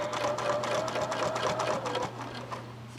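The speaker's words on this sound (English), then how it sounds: "Now you're going to just sew down." A sewing machine stitches down quilt binding at a steady fast pace, its rapid mechanical hum and needle clatter running close and continuous, slowing slightly near the end.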